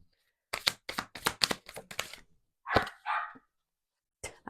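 A dog barks in a quick run of about eight close, sharp woofs, then two longer, throatier barks after a short gap and one more single bark at the end, loud against silence.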